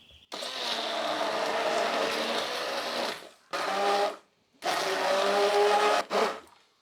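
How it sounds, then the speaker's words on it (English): A hand blender whirs loudly through chickpeas in three bursts, a long run followed by two shorter pulses with brief pauses between. "I'm going to whisk them with a hand blender"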